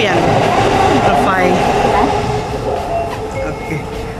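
A train in Japan sounds during a transfer between lines, with a loud rumble and clatter, rising and falling whines, and faint squeals, while people talk over it.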